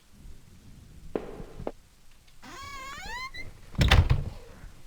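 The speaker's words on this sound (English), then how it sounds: "That sound though, where did it come from? Like a squeaking?" In a horror exploration video game, a soft creak and thunk give way to a rising, wavering squeak like a slowly sliding door, followed by a louder, heavy thud.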